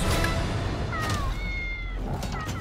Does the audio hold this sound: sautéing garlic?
no